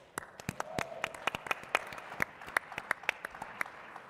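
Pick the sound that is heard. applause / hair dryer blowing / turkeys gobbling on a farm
applause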